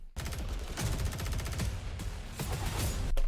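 Rapid automatic gunfire in a Modern Warfare 2 campaign trailer: dense bursts of loud, sharp shots in quick rhythmic succession, close and punchy, with a brief pause near the end before one more heavy burst.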